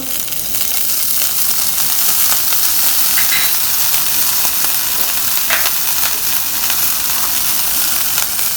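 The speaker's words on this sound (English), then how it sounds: "once the oil is hot, we add half a teaspoon of ginger" Half a teaspoon of ginger sizzles in a couple of teaspoons of hot oil for an Indian breakfast sabzi, a steady close frying hiss with light crackles that runs evenly throughout, with no voices.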